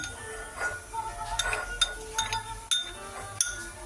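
Glasses clink together in a toast at home during a drinking session, with several sharp chinks and rings scattered over a few seconds against a quiet background.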